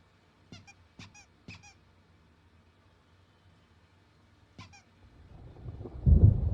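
A thunderstorm in the video game Alan Wake Remastered: a low rumble swells and grows loud near the end, after several sharp, brief squeaks in otherwise near-quiet air.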